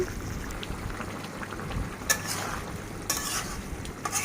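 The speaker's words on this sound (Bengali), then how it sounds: "আবারও আমি একটু নেড়ে চেড়ে দিলাম" Pigeon meat curry being stirred in a pan as its gravy thickens, with a steady low sizzle under a few louder scraping strokes, close by and with no talking.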